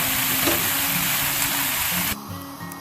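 Vegetables stir-fried in a pan for noodles, a loud steady sizzle with stirring, dropping abruptly to quieter frying near the end.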